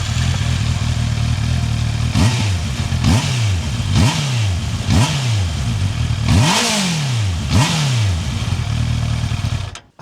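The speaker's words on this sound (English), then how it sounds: "It does have a very distinct engine sound" A 2024 Honda CBR650R motorcycle engine, already warm, revs repeatedly, several quick throttle blips rising and falling in pitch over a steady idle, loud and close.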